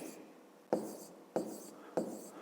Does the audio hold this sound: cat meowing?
no